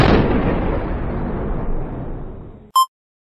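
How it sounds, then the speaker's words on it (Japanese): A big explosion at a fort in Age of Empires III, one loud booming blast with a long rumbling decay, cut off by a short bright game chime at the end. "砦で大爆発"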